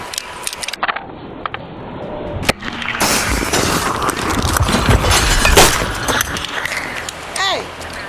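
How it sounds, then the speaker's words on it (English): A police officer smashes a car taillight, with a sharp crack and shattering near the start, followed by crunching and rattling of broken plastic and glass pieces, loud and close. "The policeman suddenly smashed the taillight."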